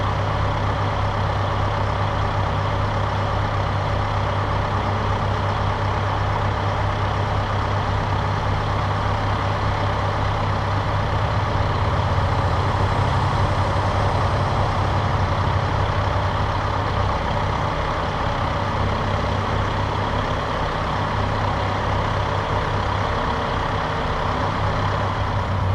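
Tractor engine running steadily under load while the front loader is raised, a constant heavy low drone with a slight swell partway through and no speech.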